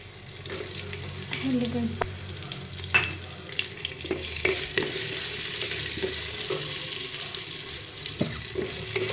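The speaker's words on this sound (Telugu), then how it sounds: "ఇలా పచ్చిమిరపకాయలు వేగుతున్న దీంట్లో ఇలా వేగిన తర్వాత" Green chillies frying in oil in a pan for soybean biryani, heard as a continuous sizzle under running-water and kitchen clatter, with occasional sharp knocks; no speech.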